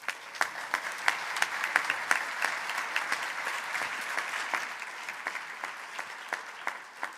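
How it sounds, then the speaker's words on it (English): Steady audience applause fills an evening alumni awards reception as the university president is welcomed, dense clapping from a fairly large crowd at moderate distance, with no voices over it. "Please join me in giving him a warm round of applause."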